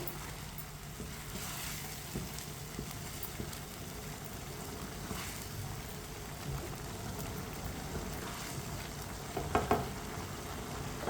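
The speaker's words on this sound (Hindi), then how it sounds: "एक बार ना दोबारा मिक्स कर लेंगे।" Chicken macaroni being stirred in a pot of boiling water on the stove, a soft continuous bubbling and sizzling hiss with faint scraping of the stirring and a couple of sharper clinks near the end.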